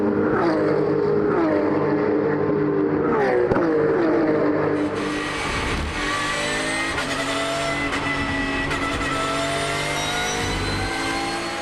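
Race cars, including a Porsche, roaring around the Paul Ricard circuit in a race, a loud sustained engine howl that rises and falls in pitch as the cars pass and accelerate, with no talking.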